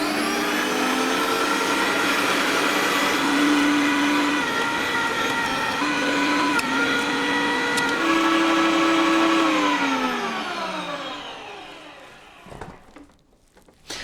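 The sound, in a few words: meat processing machine running, making Lyoner sausage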